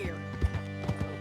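Horse hooves clip-clop on hard ground at a steady walking rhythm in the video game Red Dead Redemption 2, several crisp knocks close by, with a low ambient hum underneath.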